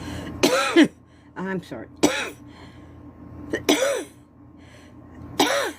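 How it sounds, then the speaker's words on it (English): Several short coughs come from a person hand painting heart-themed kindness rocks with acrylic paint pens, close and loud, spread across a few seconds with brief talk in between. "I get that late afternoon cough and hiccups."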